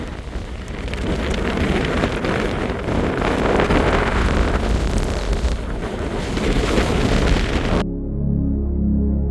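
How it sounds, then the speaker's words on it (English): Strong gusty wind of around 50 mph roars across a Scottish mountain summit, buffeting the microphone loud and continuous for several seconds before cutting to a quieter low rumble at the end. "The weather forecast was around about 50 mile an hour winds"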